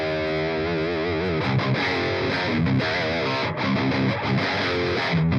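Electric guitar noodling runs through a heavy distortion plugin, buzzing and saturated, with sustained notes sliding into choppy, gritty riffing that stays loud and dense throughout.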